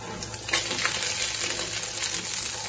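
Chilli powder and turmeric being stirred into a pan for chicken changezi give off a faint, steady sizzle with soft scraping from the stirring throughout.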